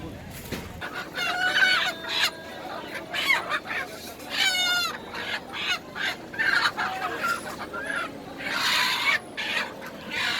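Nearby chickens cluck repeatedly while a rooster crows loudly several times in a Nagaland village, with scattered bird sounds around them.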